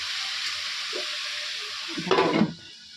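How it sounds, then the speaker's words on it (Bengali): Potatoes frying in a wok, a steady hiss of hot oil throughout, rising into a louder crackling burst near the end as the pieces are stirred, then quieting, no talking. "খুব সুন্দরভাবে আলু ভাজা হয়ে গেছে"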